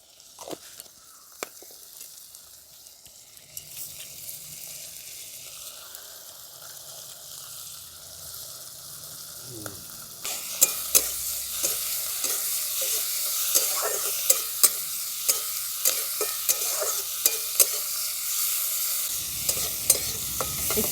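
Salted, turmeric-coated prawns frying in a pan, starting as quiet scattered crackles and then breaking into a loud, steady sizzle with repeated scraping and tapping of a stirring spoon; no talking.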